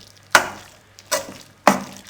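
Garam masala being stirred into chana dal in a kadai, heard as three separate scraping, sizzling strokes spaced evenly apart, close by with no talking.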